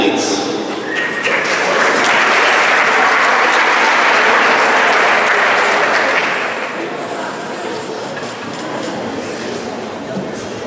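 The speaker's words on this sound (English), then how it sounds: "If you could hold your applause until we're done presenting all of the awards" Crowd at a college athletics awards banquet breaks into loud sustained applause that peaks over the first six seconds, then thins to lighter, scattered clapping as the room settles.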